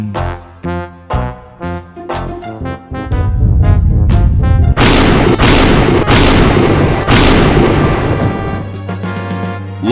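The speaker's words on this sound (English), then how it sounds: "Looks like a big storm." Loud, sustained thunder rumbles from a big storm in the remastered Day of the Tentacle adventure game, rolling in after a run of short game sound effects and filling most of the stretch before fading slightly.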